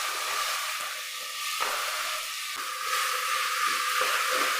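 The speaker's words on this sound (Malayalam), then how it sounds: "ഇതിലേക്ക് നമ്മൾ ഒരു 3 സവോള 2 തക്കാളി ഇത്രയും ചേർത്ത് നമുക്കൊന്ന് വഴറ്റിയെടുക്കാം" Three onions and two tomatoes sautéing in a pan for a chicken curry, with a steady, close, hissing sizzle that swells and eases slightly throughout and has no talk over it.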